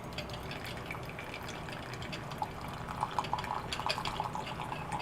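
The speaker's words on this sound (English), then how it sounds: "And you get it, and it will pour into the cup." Coffee trickles from the valve of a Belgian balance brewer into a cup, a faint steady pour with small dripping splashes toward the end, heard against low background noise.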